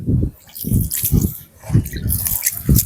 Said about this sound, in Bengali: কেশর আর দুধের মিশ্রণটা দিয়ে দেবো।